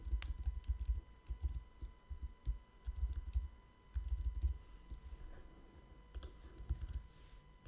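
Steady keyboard typing with bursts of quick clicks and brief pauses, close by and fairly quiet, with a faint electrical hum underneath.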